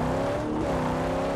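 Steady loud engine drone of a car in the video game Mad Max, running a swapped-in engine, held at high revs with a brief pitch dip midway, heard alone.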